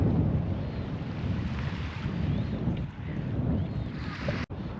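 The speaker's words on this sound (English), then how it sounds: "This is the ferry that takes you across from Wallaroo to Lucky Bay." A car ferry crossing from Wallaroo to Lucky Bay on calm sea, its steady engine rumble and water wash mixed with wind buffeting the microphone, continuous and fairly loud with a sharp knock near the end.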